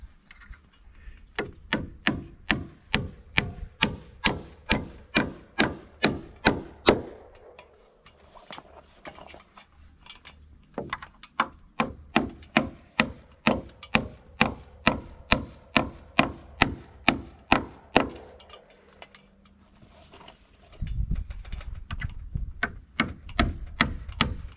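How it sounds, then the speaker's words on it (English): Rapid, regular hammer blows striking nails into a wooden board during a pole barn foundation build, in two long bursts separated by a brief pause, close and sharp. "Yes, a bigger hammer would make this easier."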